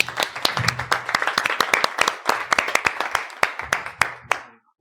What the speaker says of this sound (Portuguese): uma salva de palmas para todos vocês que estiveram aqui a aturar-nos